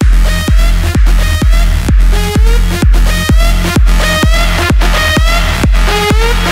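Music with tube saturation added by an SPL Twin Tube plugin before mastering plays loud and steady. A punchy, rhythmic beat drives it with evenly spaced hits, and no voice is heard.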